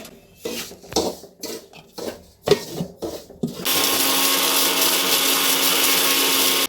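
Cardamom is handled in a mixer grinder jar with several bursts of clattering and knocking, then the grinder switches on to a loud, steady whirring roar that runs without a break.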